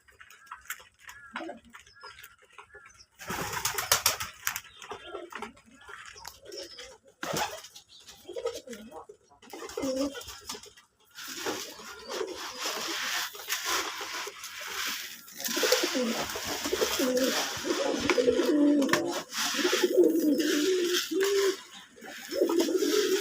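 Local domestic pigeons at a farm coo in low, throaty bursts, near and irregular, mixed with ticking and rustling sounds while a person talks in between.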